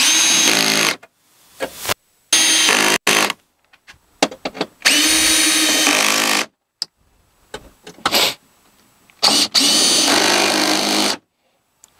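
Cordless power drill driving screws into a 1999-2004 Jeep Grand Cherokee WJ passenger-side window assembly, with several loud bursts of whirring separated by short pauses and brief clicks, no talking.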